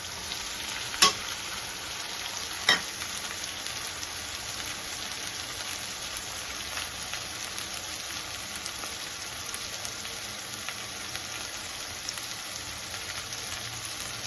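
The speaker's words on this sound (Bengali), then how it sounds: "এই মশলাটা দিয়ে কষাবো ভালো করে" Dry spice masala for rajma (kidney bean curry) fries and crackles in a pan, a steady dense sizzle throughout with a couple of sharp utensil knocks near the start.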